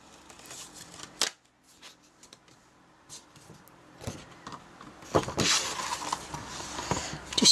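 Card stock being cut into pieces for handmade note cards makes sparse, quiet snips and rustles at first, then denser, louder cutting and paper handling toward the end, with no talking.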